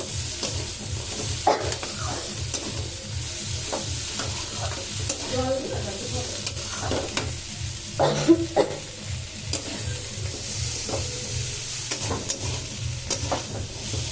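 Kidney beans being stirred and fried in a pan, with a steady sizzle under a regular scraping rhythm of spoon strokes, close and continuous throughout, with no talk.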